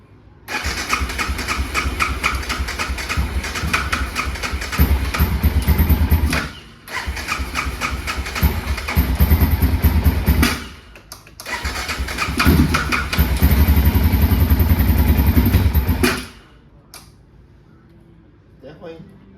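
Big bore quad ATV engine cranking and catching in three loud, rough bursts separated by brief pauses, then cutting out to near quiet at the end.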